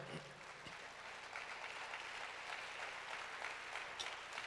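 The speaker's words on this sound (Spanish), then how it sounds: "Un aplauso al Señor" Applause rises from a church audience during a Spanish-language Christian sermon, a steady, fairly faint wash of clapping that carries on unbroken for several seconds.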